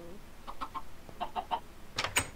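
Chickens cluck in the video game Minecraft, a quiet series of short, choppy clucks in small bursts, ending with a couple of brighter, louder squawks.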